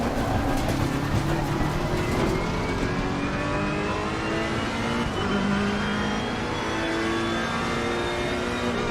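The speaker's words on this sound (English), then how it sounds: "I haven't driven the Ferrari for a little while." Ferrari race car in a racing video game, engine droning steadily at high revs with rising pitch sweeps through gear changes, loud and continuous throughout with no talk.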